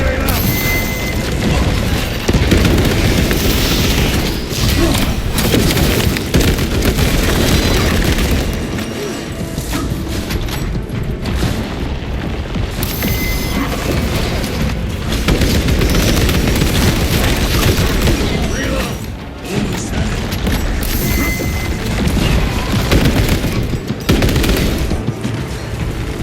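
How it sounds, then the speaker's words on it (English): Booming explosions and heavy gunfire from a Warhammer 40,000: Space Marine 2 battle, including a frag grenade blast, roar continuously and loud over the whole stretch, with combat rumbling dense throughout and voices shouting under the din. "Frag grenade out!"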